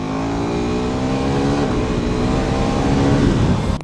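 KTM Duke 390 motorcycle engine pulling hard under acceleration, a loud close whine with rising harmonic tones climbing steadily through the gears, no voices over it.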